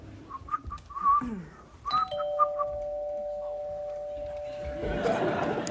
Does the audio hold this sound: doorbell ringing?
yes